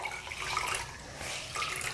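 Warm water in a bowl sloshes and splashes as a washcloth is rinsed in it, a close, continuous wet swishing with no voices.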